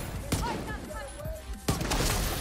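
Two sharp, heavy blasts from a Firefly hand cannon ring out in The Division 2, spaced over a second apart amid game noise while someone talks.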